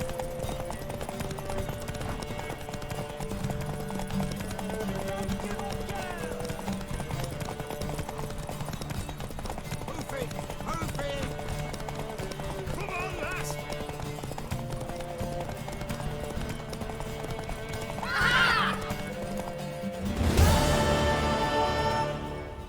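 Horse hooves clip-clop steadily through a Witcher 3 game scene over music and ambient sound, with a whinny rising near the end and a louder burst just after.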